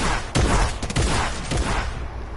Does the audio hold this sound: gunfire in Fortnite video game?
yes